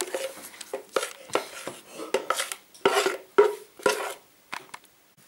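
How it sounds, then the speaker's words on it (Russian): Cherry pie batter goes from a bowl into a baking pan, with a utensil clinking and scraping against the dishes in short, irregular bursts, close and fairly quiet. "Выливаем в форму теста."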